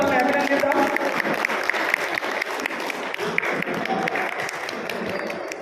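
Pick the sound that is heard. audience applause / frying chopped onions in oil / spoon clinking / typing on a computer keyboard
audience applause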